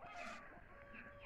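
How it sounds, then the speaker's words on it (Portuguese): Farmyard chickens cluck and squawk close by on a misty morning smallholding while being fed, a brief busy burst of several hens calling at once. "Dona Maria dando já comi das galinhas aqui"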